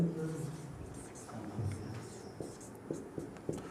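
A pen writes out a triangle math solution in faint, quick strokes and taps, with a soft voice speaking over the start.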